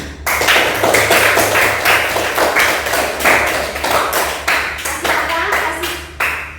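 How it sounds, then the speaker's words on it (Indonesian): Audience applause after a group's answer is accepted, brisk rhythmic clapping from many hands, loud and close, continuing steadily under a low hum. "Tepuk tangan untuk"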